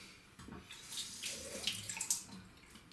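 Warm water runs from a tap into a sink, a gentle irregular splashing trickle with a few brighter drips and swells, quiet and close, no talking.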